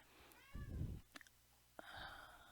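A domestic cat meows twice indoors, a short nasal cry followed by a longer, rising call after a brief pause, with a few faint knocks in between.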